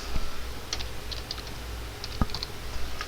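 Someone types on a computer keyboard in short, scattered bursts of light key clicks, quiet and close, with no talking.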